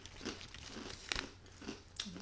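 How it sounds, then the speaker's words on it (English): A crunchy packaged snack bitten and chewed up close, giving a few soft, quiet crunches in short bursts. "Obviously, it's really crunchy."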